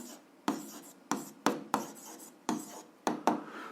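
Pen strokes scratching on paper while an algebra exercise is worked out, coming in short rasping bursts at an irregular pace, close and clear with no talk.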